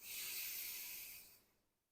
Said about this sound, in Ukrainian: Видих, дихаємо тут.